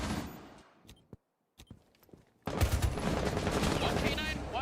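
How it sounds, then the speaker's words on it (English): Gunfire in Rainbow Six Siege as a player shoots a security camera: a few sharp single shots over quiet, then a sudden dense burst of rapid fire that continues loudly to the end. "Gonna shoot the default cam."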